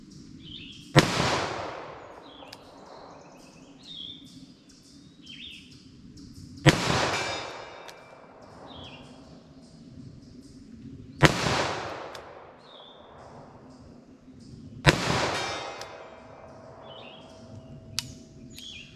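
Four sharp, loud gunshots ring out several seconds apart, each with a long decaying echo, fired from short-barrel handguns using Fiocchi CovertX 9mm and .38 Special ammunition, with faint birdsong in the background.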